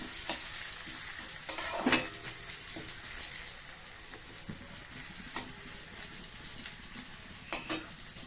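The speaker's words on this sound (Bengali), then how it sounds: "এবার আমি এতে একটু কাঁচা পেঁয়াজ দিয়ে দিলাম। পেঁয়াজটা একটু ভেজে নেব।" Raw onion frying in a pan: a continuous close sizzle with occasional sharp clicks and scrapes from stirring scattered across the stretch, and no talking.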